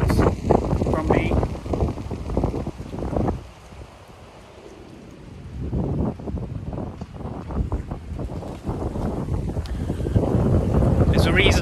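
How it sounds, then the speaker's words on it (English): Gusty wind buffets the microphone on an exposed hilltop in Wando, Korea, roaring loudly in surges, dropping briefly into a calmer lull, then building again to a strong, steady blast. "Right, it's a bit windy."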